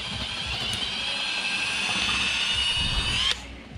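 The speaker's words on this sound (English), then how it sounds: "So I'll go drill that out now" A power drill whines steadily at close range for about three seconds, drilling during a brake controller installation, then cuts off abruptly, leaving a quieter background hum.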